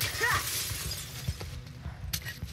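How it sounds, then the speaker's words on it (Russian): Glass shattering in the video game The Last of Us: Left Behind, a sharp crash near the start followed by tinkling shards and a second crack later, with game sounds and brief voices underneath. "Мои стекла будут разбиты быстрее, чем твои."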